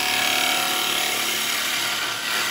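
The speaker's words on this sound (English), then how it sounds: "it's a quite an advanced cut really to do with carbide, because you've got your handles down" A carbide tool cutting wet eucalyptus on a wood lathe, a loud continuous bright hissing shear held steady and close for a few seconds with no talking.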